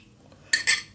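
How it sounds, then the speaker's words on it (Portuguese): A spoon stirs sake and miso sauce in a bowl, producing two quick, close metallic clinks against the side. "E agora é só misturar muito bem, até o miso dissolver bem."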